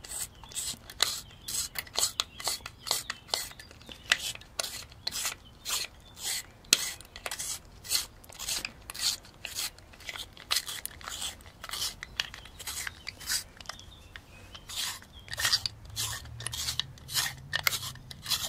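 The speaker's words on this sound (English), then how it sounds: "Let me just sharpen my pencil here." A pencil is sharpened at close range with a rapid series of crisp, rhythmic scraping and cutting strokes over about eighteen seconds, with occasional faint talk in the background.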